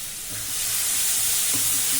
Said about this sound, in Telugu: ఒక 2 ఉల్లిపాయలు తీసుకొని ఈ విధంగా సన్నగా చాప్ చేసుకొని వాటిని కూడా అయితే కలర్ చేంజ్ అయ్యే వరకు వేయించుకోండి